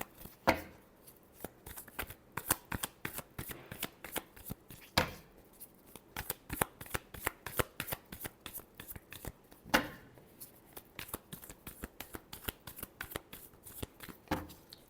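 A deck of cards shuffled repeatedly by hand, rapid riffling and crisp slapping bursts in quick succession, close up and fairly quiet, with no talk.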